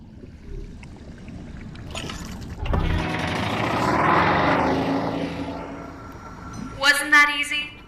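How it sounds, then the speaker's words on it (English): An escape pod engine in the VR game I Expect You To Die spools up with a rising rumbling roar that swells, holds and fades, followed by a burst of bright electronic tones; a synthetic voice speaks between the sounds. "The engine is engaged and we are starting our ascent"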